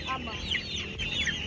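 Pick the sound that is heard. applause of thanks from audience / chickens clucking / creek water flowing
chickens clucking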